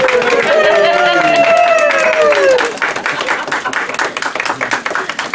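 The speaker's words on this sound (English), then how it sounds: "Let's give them a big round of applause." Applause from a crowd at a ribbon cutting for a shoe boutique, loud at first beneath cheering voices and whoops, then thinning into scattered nearby claps.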